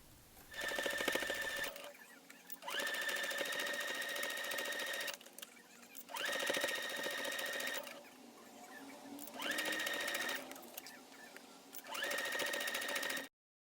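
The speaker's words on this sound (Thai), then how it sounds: "เย็บวนไป ถึงจุดนี้ย้ำเว้นไว้หกเซนจ้ะ" A sewing machine stitches fabric for a breathable face mask with a filter pocket, running in five or six steady whirring bursts separated by short pauses, loud and close.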